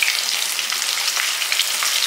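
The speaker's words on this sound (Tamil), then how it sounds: "எல்லாமே நல்லா எண்ணெயில் வதக்கணும்." Shallots, slit green chilies and a sprig of curry leaves frying in oil, a dense, even hiss of crackling sizzle heard close up for two seconds with no voices.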